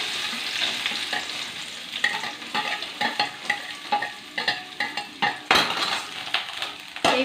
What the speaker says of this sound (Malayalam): അപ്പോൾ നെയ്യ് ചൂടായി കഴിഞ്ഞാൽ തേങ്ങാക്കൊത്തുകൾ അതിലിട്ട് കൊടുക്കാം.